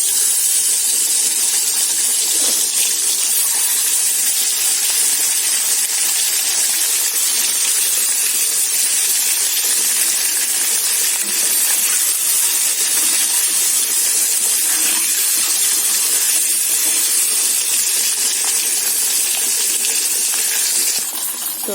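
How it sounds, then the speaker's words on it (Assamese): Eggs frying in hot oil in a kadai, a loud, steady, crackling sizzle with dense spitting pops running unbroken throughout, close up and with no talk. "তেলখিনি গৰম হৈ গৈছে, মই এতিয়া কণীকেইটা ফ্ৰাই কৰিম"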